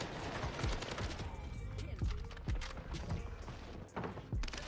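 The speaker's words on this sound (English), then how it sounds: "Hey, I remember that AK-47." AK-47 automatic fire in the video game Call of Duty Warzone on Rebirth Island. Dense, loud bursts of shots run continuously in short volleys, with a few heavier thumps among them amid busy game noise.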